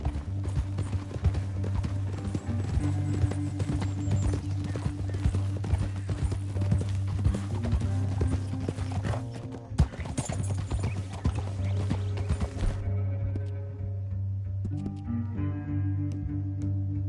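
Steady clip-clop of horse hooves from a Red Dead Redemption 2 ride through a canyon, loud and rhythmic for most of the stretch, with a whinny, a brief break near the middle and the hoofbeats thinning toward the end.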